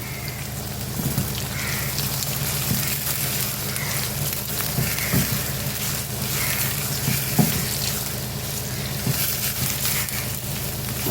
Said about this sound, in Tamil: அப்படியே வதங்கட்டும் வெங்காயம் நல்லா செவக்கணும்